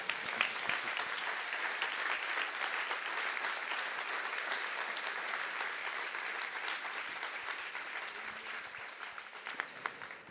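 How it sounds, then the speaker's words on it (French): A conference audience at a forum gives sustained, even applause for a speaker, a dense wash of many hands clapping that continues steadily for about ten seconds without talk. "je vous propose qu'on applaudisse quand même Tugdual"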